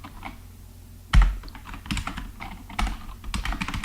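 Keystrokes on a computer keyboard during a live coding session, a sharp loud key press followed by a run of irregular, close-up clacking taps with no voices.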